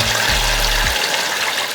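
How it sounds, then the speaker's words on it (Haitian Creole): Water poured into a bowl of rice, a loud steady rushing gush close to the microphone that continues for the whole short moment, with a brief low thud at the start. "Et puis après, on va mettre de l'eau dans ça."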